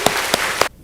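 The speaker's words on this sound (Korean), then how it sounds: "큰 박수로 격려해 주시기 바랍니다." A short burst of applause from a church congregation during a service, a few sharp clap-like peaks over a dense patter that stops abruptly.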